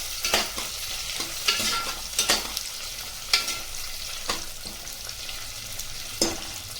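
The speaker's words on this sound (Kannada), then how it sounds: "ಈಗ ನೋಡಿ ಈರುಳ್ಳಿ ಚೆನ್ನಾಗಿ ಫ್ರೈ ಆಗ್ತಾ ಇದೆ ಅಲ್ವಾ" Onions and fresh green peas frying in a pan, a close sizzle broken by repeated scraping stirs at an irregular rhythm, with no voices.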